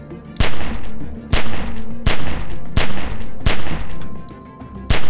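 Loud, evenly spaced gunshots, about seven single cracks roughly 0.7 seconds apart, each ringing with a short echo and no talking in between.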